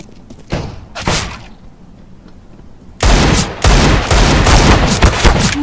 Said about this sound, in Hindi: ये है डेजर्ट ईगल की आवाज